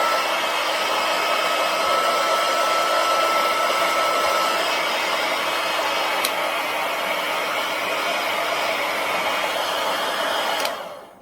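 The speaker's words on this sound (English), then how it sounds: "I've never done this with a candle and a blow dryer, so we'll see how well this works." A blow dryer runs steadily and loudly for the whole stretch, used to heat a candle for a Valentine's craft, a constant whooshing roar that cuts off abruptly near the end.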